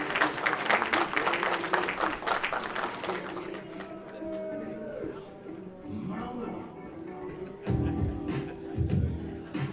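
Audience applause at an anniversary awards celebration, a broad burst of clapping from a crowd welcoming a speaker to the stage, loud at first then thinning as a voice begins talking.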